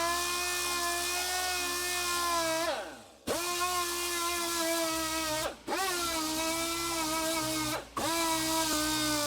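Steady whirring hum of a DA sander cleaning up the engine deck of a Mercedes, loud and continuous, dipping briefly three times as the tool lifts off the surface.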